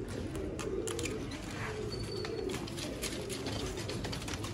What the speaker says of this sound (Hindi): लाजवाब सियालकोटी कबूतर।